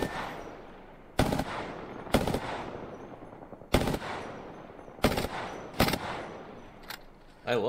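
Prowler burst-fire gun in Apex Legends, about six sharp, loud bursts at irregular intervals with decaying echoes between them.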